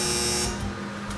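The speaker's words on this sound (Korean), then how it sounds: "삐 하는 이런 소리가 납니다." An electronic kitchen timer on a commercial oven sounds a steady, continuous buzzing beep for just over a second, signalling that the set baking time is complete.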